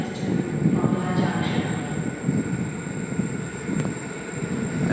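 A Sydney suburban electric train on a Bondi Junction service rumbles past, a steady loud roar of wheels and carriages on the track with faint metallic squeals, continuous throughout at close range.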